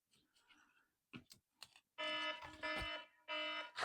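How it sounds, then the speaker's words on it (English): A kitchen-style timer alarm goes off during a timed craft session, giving loud, steady buzzing beeps in three long bursts after a few sharp clicks and taps. "There goes the alarm."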